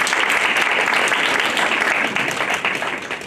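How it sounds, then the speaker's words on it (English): Audience at a 2020 African American Read-In event applauding, steady, dense clapping from a room of people at full strength, tapering slightly at the end. "Let's give her another round of applause."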